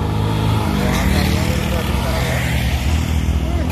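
A Fuso truck engine revs hard and loud on a steep, banked bend, a dense continuous roar held throughout while someone talks over it.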